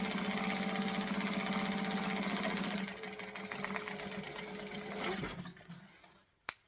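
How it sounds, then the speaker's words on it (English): A sewing machine chain-sews fabric pieces with a fast, even mechanical whirring close by, slowing and stopping near the end before one sharp click. "Next one, we're going to chain sew that in."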